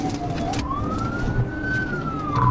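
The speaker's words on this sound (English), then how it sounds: "the police" Police car siren sounding during a car chase: a single long wailing tone that rises and falls, with faint traffic noise underneath and no voices.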